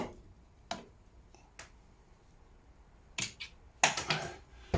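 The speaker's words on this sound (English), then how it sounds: "I'm going to be using these silly cutters to cut these cables off." Small cutters snipping through cables during an LED light install in a transit van, a few sharp isolated snips spaced apart, with a cluster of louder clicks near the end.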